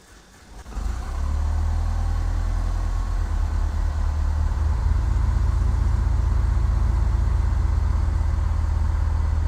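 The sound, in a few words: aircraft engine starting up in Microsoft Flight Simulator X video game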